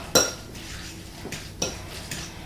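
A utensil stirring mustard and sweet relish in a bowl for deviled egg filling, with a few close clinks and scrapes spaced irregularly.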